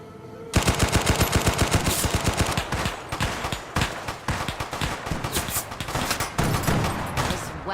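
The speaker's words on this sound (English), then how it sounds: "Double-barreled shotgun." Rapid volleys of double-barreled shotgun blasts from Fallout New Vegas, loud close bursts fired in quick succession over about seven seconds, with dense overlapping reports and no talk.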